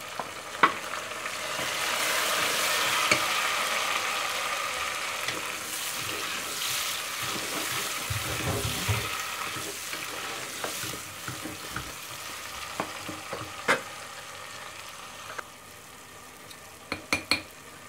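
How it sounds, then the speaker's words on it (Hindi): Tomatoes and green chillies go into frying onions for a spinach and mutton curry, setting off a strong hiss and sizzle that slowly settles, with spoon stirs and a few metallic clinks against the pot, near and wordless. "अब इसमें हम टमाटर और हरी मिर्चें डालते हैं।"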